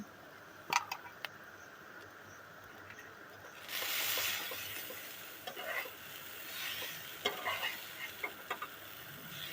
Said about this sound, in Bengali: ভালো করে নাড়িয়ে চাড়িয়ে নিচ্ছি